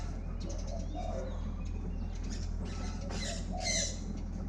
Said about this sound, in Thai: เจ้าสองคูแล้วครับ